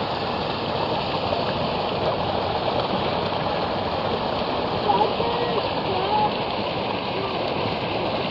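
Continuous rushing, splashing spring water pouring steadily into a container close by at a lakeside spring, with a voice murmuring faintly under it.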